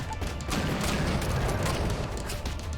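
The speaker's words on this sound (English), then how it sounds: "It seems like the nuclear explosions are an instant destroy for whatever's next to them for the most part." Nuclear ships exploding in the octopus arcade game Octogeddon: a dense, continuous barrage of loud booms and crashes, sharp bursts stacking over a steady roar for nearly three seconds, with no talking.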